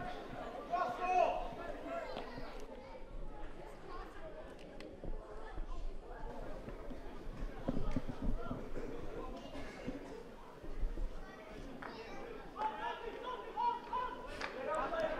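Crowd murmur and chatter from spectators at a men's hockey match between Portugal and Scotland in Glasgow, a steady mid-level din of many voices throughout.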